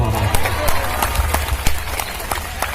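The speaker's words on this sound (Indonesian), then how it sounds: "Tepuk tangan dong." Audience clapping at an Isra Mi'raj religious talk, a dense steady patter of many hands, loud and close, continuing for a few seconds with voices underneath.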